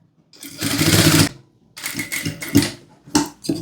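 A sewing machine stitching piping on a princess cut blouse, running in several short bursts of rapid close stitching separated by brief pauses.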